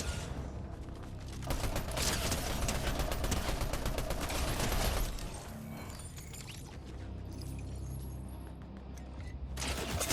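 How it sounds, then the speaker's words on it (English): Dense rapid gunfire in the video game Fortnite, a loud continuous rattle of shots for several seconds, then a lull with mechanical clatter before another burst at the end. "I see that gunshot."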